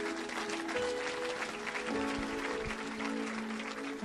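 A church congregation applauds steadily, a dense wash of clapping over faint background voices and music.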